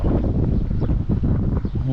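Strong wind buffets the microphone beside a sea bass fishing pond, a loud continuous rushing roar that fills the short stretch with no break.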